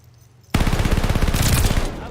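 Rapid automatic gunfire in Call of Duty Vanguard multiplayer, bursting in abruptly after a quiet start and continuing as a dense, loud rattle of shots.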